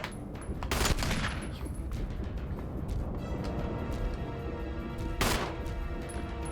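Gunshots in Resident Evil HD Remaster, two loud, sharp blasts a few seconds apart, each with a ringing decay, over a low ambient background hum, no talking.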